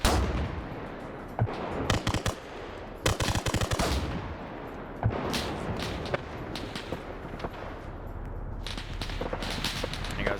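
DT machine guns fire in an Arma military video game as repeated bursts of loud, close automatic gunfire, separated by short pauses and layered over distant battlefield noise, with no talking.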